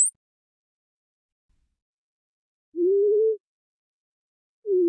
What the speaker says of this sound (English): So you can actually hear how it's switching back and forth between the left and the right sound to make that complex warble.